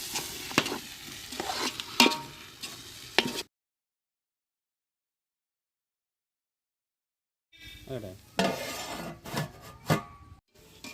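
Tomato, onion, green chillies, ginger and garlic sautéing with turmeric in a pan for chicken biryani: brisk, rhythmic spatula scrapes over a soft sizzle, in two close bursts separated by a few seconds of silence.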